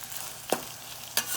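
Red peppers and onions cook in a lidded pot for meatless chili, giving a steady soft sizzle broken by two brief scraping stirs.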